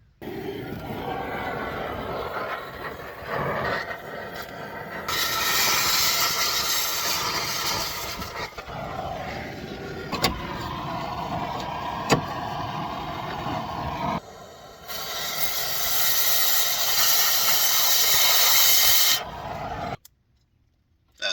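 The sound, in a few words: cutting torch cutting off a seized bolt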